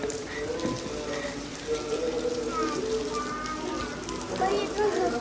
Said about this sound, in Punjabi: ਮੀਂਹ ਬੜਾ ਤੇਜ਼ ਹੈ